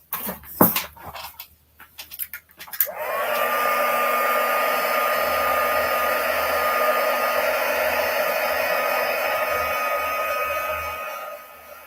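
Heat tool blowing to melt embossing powder on a stamped card, a steady loud whooshing hum with a faint whine that starts after a few seconds of handling clicks and continues to the end.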